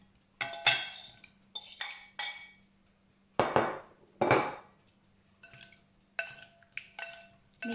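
Beef being mixed with chili paste in a bowl for a Thai Nam Tok Neua salad, with a series of separate clinks and scrapes of utensil against bowl in irregular bursts, close and clear with quiet gaps between.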